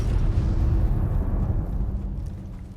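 A warhead detonates in a video game, a loud, deep boom that rolls on as a heavy rumble and slowly fades over a few seconds.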